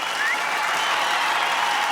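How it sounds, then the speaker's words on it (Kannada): An audience breaks into loud, continuous applause, a brief steady wash of clapping from a crowd at a comedy show. "ಬರ್ಲಿ ಜೋರಾದ ಚಪ್ಪಾಳೆ ಹುಲಿ ಕಾರ್ತಿಕ್ ಅಂಡ್ ಟೀಮ್ ಅವ್ರಿಗೆ"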